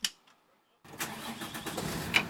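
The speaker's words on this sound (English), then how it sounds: "and cranks up his bus" Bus engine cranking to life: a short faint rattle, a pause of near silence, then the engine catches and settles into a steady mid-pitched idle running close by.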